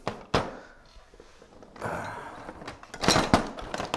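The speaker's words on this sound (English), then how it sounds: "my body always gets in the way of the drawer" A body bumps against a drawer at a crafting table while paper is pressed into place, giving a sharp thunk early on, then a second bump and a cluster of louder knocks and rustles near the end.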